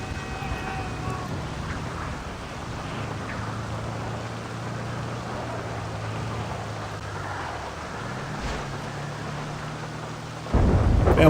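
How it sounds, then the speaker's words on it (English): Rain and rolling thunder in the video game GTA 5 Online, a continuous dense wash of rainfall under low rumbling, with a vehicle engine drone and a louder burst near the end. "Why is it always raining in this game?"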